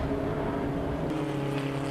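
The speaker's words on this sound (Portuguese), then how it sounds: "E o ronco desses motores é com certeza um espetáculo à parte" A Ferrari and a Ford Fusion race at the Tarumã circuit in the 2012 Endurance Gaúcho: a continuous loud, dense engine roar with no distinct pass-by.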